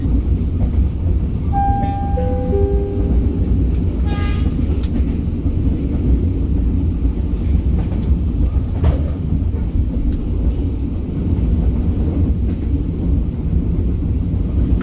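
An Indonesian Blorasura commuter line train runs on the rails between Bojonegoro and Benowo, giving a loud, steady low rumble with rail noise that continues throughout, with a few faint brief tones early on.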